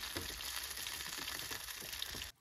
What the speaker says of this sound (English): You can hear the rain and the sausage.